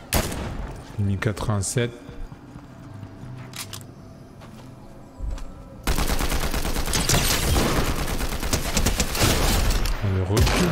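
Dense Fortnite gunfire: sharp shots early on, then from mid-clip a sustained rattling barrage of rapid fire, loud and close. Players talk over it.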